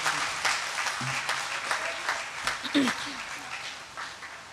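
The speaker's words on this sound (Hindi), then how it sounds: "सब लोग दोनों हाथ ऊपर उठाकर एक बार जोरदार तालियां बजाकर मुझे माँ वागीश्वरी की वंदना की अनुमति प्रदान करें" A crowd claps at a Hindi poetry recital in a cultural hall in Bhiwani, with sharp, scattered claps and uneven bursts of varying loudness, mixed with voices talking over them.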